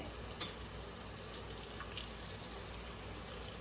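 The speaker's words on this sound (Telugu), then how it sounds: "ఆనియన్స్ ఫ్రై అయిపోయినాయా? వేగిపోయినాయి బాగానే. ఇప్పుడు జీడిపప్పు కొత్తిమీర" Onions with cashews and coriander fry in a pan for coconut-milk biryani, giving a quiet, steady crackling sizzle with faint pops and light stirring, no talking.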